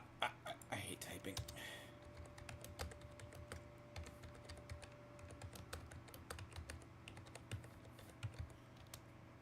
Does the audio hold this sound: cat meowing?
no